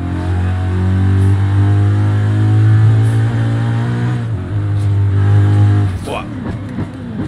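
BMW M3 GTS E92 in Forza Horizon 5 drifting on slick tyres, its engine holding a loud, steady high-rev drone for several seconds before dropping off abruptly near the end.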